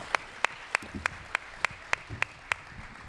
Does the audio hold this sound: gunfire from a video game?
no